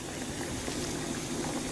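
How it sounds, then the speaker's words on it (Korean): Salted water boils in a pot for blanching hijiki seaweed, with a close, steady bubbling rumble that continues throughout. "톳을 한번 데쳐줘야 되거든요. 끓는 물에"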